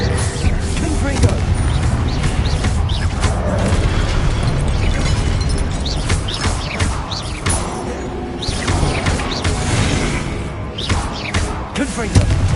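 The Confringo blast spell in the Hogwarts Legacy video game sets off repeated loud booms and bursting impacts, packed closely together amid game effects, with a voice talking underneath.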